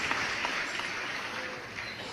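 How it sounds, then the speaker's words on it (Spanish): Church congregation applauding loudly during a sermon, a steady wash of many hands clapping that fills the whole stretch without a break. "Un aplauso fuerte al Dios que vive."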